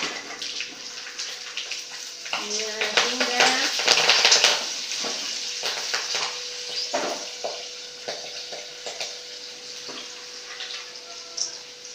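Garlic, cumin and curry leaves hit hot oil for upma, bursting into a loud, crackling sizzle that swells after the ingredients drop in and then settles into a steady fry.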